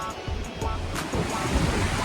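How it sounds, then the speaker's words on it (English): A waterfall on the Annapurna Circuit trek in Nepal roars as a steady broadband rush, loud and close, with wind buffeting the microphone. "after that the waterfall is amazing."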